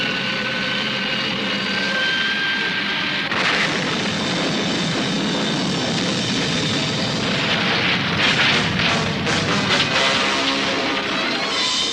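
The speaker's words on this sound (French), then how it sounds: "ce bruit, c'est un bruit de moteur." Aircraft engine roar from a 1960s setting, a broad steady drone holding throughout and swelling louder partway through as it draws nearer.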